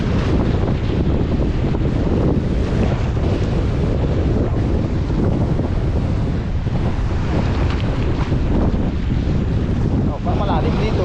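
Strong ocean waves and heavy wind at sea roar continuously, with loud wind buffeting the microphone and the rush of surf churning underneath throughout.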